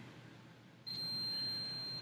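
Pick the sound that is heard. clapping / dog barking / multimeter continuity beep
multimeter continuity beep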